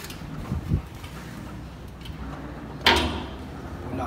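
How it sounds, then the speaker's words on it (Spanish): An iron door moves with a dull knock early on, then a sharp metallic scrape and clank later, fairly close in a quiet room. "La puerta de hierro, no."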